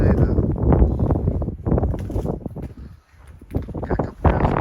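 Strong gusting wind buffeting the microphone on the freezing summit of Clingmans Dome in December, loud rumbling roars that swell and briefly drop off, with someone talking through it.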